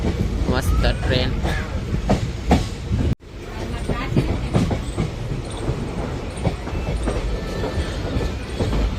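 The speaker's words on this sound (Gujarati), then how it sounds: "મસ્ત ટ્રેન." A train running on the rails during a journey between station stops, with a steady close rumble and clatter throughout, a brief dropout about three seconds in, and faint voices under the noise.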